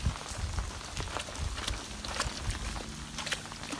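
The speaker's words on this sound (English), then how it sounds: "Just swimming in the rain." Steady rain patters on a surface, a dense drizzle of drops with occasional louder splats nearby.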